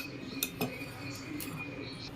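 A few quick metallic clinks as a spoon knocks against a pot while stirring milk and sugar, over a low steady hiss in a quiet kitchen.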